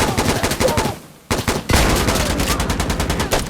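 Gunfire in the video game Insurgency Sandstorm: dense, loud automatic bursts and heavy shots fill the stretch almost without pause, with a brief dip and then a renewed barrage.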